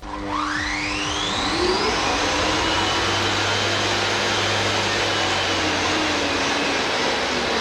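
A drywall sander without soft start starts with a quick rising whine and settles into a loud, steady, rough roar with an underlying hum, running continuously with no voices, removing paint.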